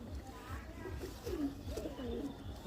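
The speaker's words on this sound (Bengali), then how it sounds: "এই কালা গলা প্যাটার্নের কবুতর" A pigeon with a black neck pattern cooing close by in soft, repeated throaty rolls, with a person talking over it at times.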